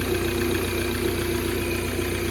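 A Fiat Ducato engine idles steadily after being started, a continuous even rumble with a faint regular ticking throughout, no voices.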